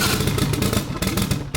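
A twin-turbo compound-turbo D16 Honda Civic engine runs on its first start, loud and close, with a rough, pulsing revving roar that briefly dips before picking up again.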